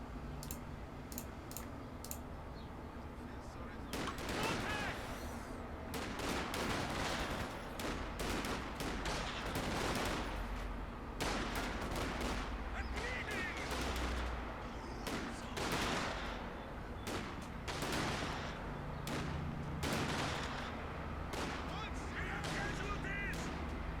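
Long-range firefight in Company of Heroes 2 between G43-armed Panzergrenadiers and Riflemen, with sustained crackling rifle and automatic fire in rapid, uneven bursts over a steady battlefield din, starting faint and swelling to constant volleys.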